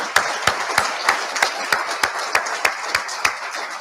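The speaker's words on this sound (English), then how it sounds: "Ladies and gentlemen, please join me in a resounding round of applause for all of our veterans honored here today." An audience claps for honored military veterans at a ceremony: a brief, steady run of about a dozen evenly spaced, crisp handclaps, fairly close and isolated, with no voices.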